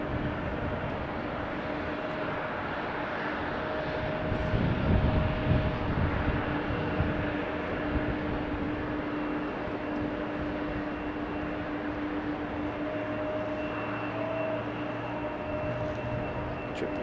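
Boeing 777 airliner starting its engines at Amsterdam Schiphol Airport, heard from a distance as a faint, steady whine and rumble that swells briefly before settling into an even drone.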